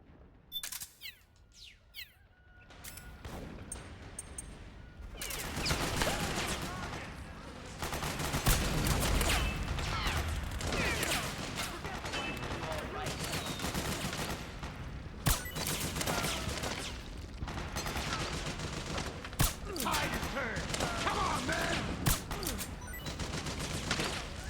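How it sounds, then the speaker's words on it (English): Gunfire in the video game Metal Gear Solid 4: after a quiet start, sharp repeated shots and bursts crack out loud and dense over a constant roar of game noise, some shots standing out as single sharp cracks. "Gunshots are a bit loud."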